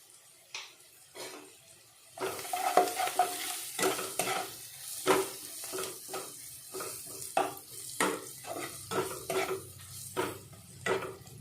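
Cumin seeds fry and sizzle in a pan while a utensil stirs them in repeated scraping bursts, close and fairly loud, with a quiet stretch at the start before the stirring picks up.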